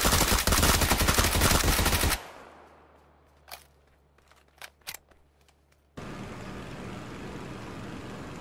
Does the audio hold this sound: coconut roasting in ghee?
no